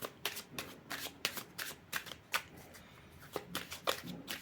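A deck of cards is cut and handled during a French tarot-style card reading, giving a quick series of crisp riffling flicks and snaps, close and fairly quiet.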